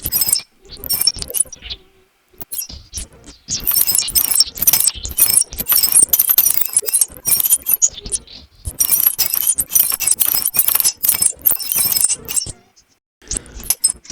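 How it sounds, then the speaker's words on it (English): Bright, glassy synthesized tinkling and clinking, triggered by body movement through an interactive machine-learning setup in Max, in dense bursts that start and stop, with short silent gaps between flurries. "When I move, I tend to go more towards the glass sounds"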